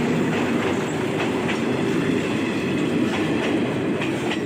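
A train heading to Naga Station rumbles past up close, a loud steady roar of rolling wheels with a faint clickety-clack, no voices.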